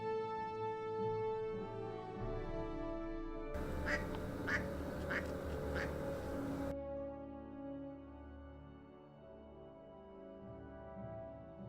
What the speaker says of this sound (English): these mallards and one misfit catch my eye as I pass them swimming in the Kishicoquillas Creek